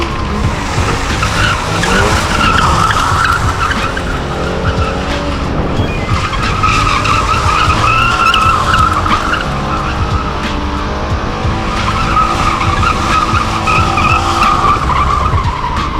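Subaru BRZ or Toyota GR86 sports car doing donuts, its engine revving loudly and steadily while the tires skid and squeal continuously, close up and without speech.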